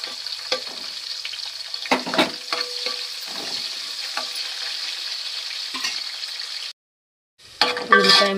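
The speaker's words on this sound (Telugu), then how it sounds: "ఉల్లిపాయ ముక్కలన్నీ ఫ్రై అయిపోయినాయి." Chopped onions and green chillies fry in a pan with bay leaf and spices for a Telangana-style curry: a loud, steady sizzle with stirring clatters on top, a brief silence near the end, then sizzling again.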